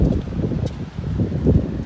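Gusty wind at a surf beach in southern Australia buffets the microphone in low, rumbling bursts, rising and falling over a couple of seconds.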